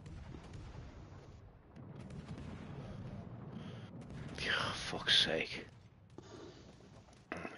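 Naval gunfire in the video game World of Warships Legends, with a muffled boom and rumble around the middle amid steady game ambience, while someone talks quietly throughout.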